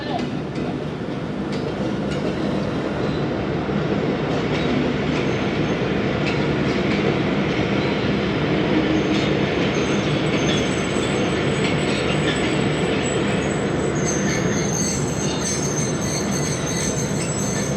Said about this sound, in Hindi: यहाँ पर 42 डाउन कराकरम एक्सप्रेस 9003 लोकोमोटिव के साथ आई है